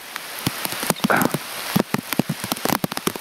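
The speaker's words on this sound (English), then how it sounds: "Oh, it's a rainy day. This is a Florida sun shower." Rain from a Florida sun shower falls during a bike ride on a Trek e-bike, a close, steady patter with scattered sharp drops tapping on nearby surfaces.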